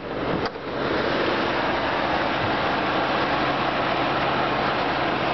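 A 2010 Ford F-150 Harley-Davidson edition pickup's 5.4-litre V8 idles in a steady, even drone with a broad noisy hiss, after a brief thump at the start, with no one talking.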